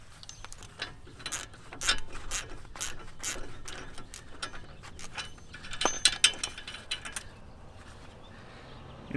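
A breaker bar fitted with a 36mm 12-point socket works loose a nut on the front lower control arm of a 2013–2020 Range Rover, giving repeated close ratcheting clicks and metallic scraping in uneven bursts.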